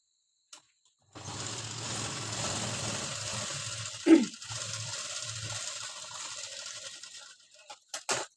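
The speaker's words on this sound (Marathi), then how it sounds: "आतल्या बाजूतून आणून घेतल्यावर ही शिलाई त्याच्यावर शिलाई मारायची" A sewing machine runs steadily for several seconds while stitching a blouse seam, a close mechanical whir with a brief clunk midway, then stops with a few small clicks.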